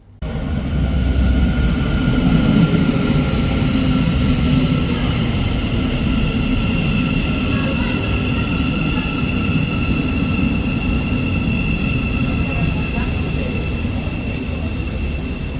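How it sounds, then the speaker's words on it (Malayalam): Interior of a moving passenger train on the way to Gatwick Airport, heard as a loud, steady low rumble of wheels and carriage with faint high whining tones, continuous and unbroken, with no voices. "നമ്മുടെ ട്രെയിൻ അങ്ങനെ പോയിക്കൊണ്ടിരിക്കുകയാണ്."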